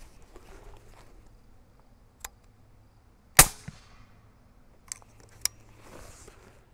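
A single suppressed 8.6 Creedmoor rifle shot fired into a dirt berm: one sharp, fairly loud report with a quick decaying tail, set among faint outdoor ambience and a few light clicks before and after.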